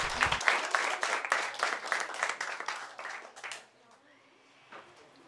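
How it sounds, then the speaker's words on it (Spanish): Audience applause for a storyteller at a talk event, a dense burst of clapping that fades out after about three and a half seconds, leaving near silence. "un muy fuerte aplauso a la narradora"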